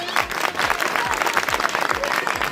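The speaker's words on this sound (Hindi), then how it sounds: "उप मुख्यमंत्री महोदय आदरणीय प्रेम जी बैरवा साहब के लिए 14 तालियों का स्वागत करें" Crowd applause at a political election rally welcoming a deputy chief minister, dense clapping from many hands, loud and continuous throughout the short stretch.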